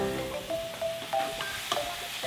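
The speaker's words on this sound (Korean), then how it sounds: "기름 대신 채소를 넣고 살짝 말린 채소를 볶는데요" Lightly sun-dried vegetables stir-fry over medium heat in a pan with no oil, giving a soft, steady sizzle broken by small scraping and clinking sounds from stirring.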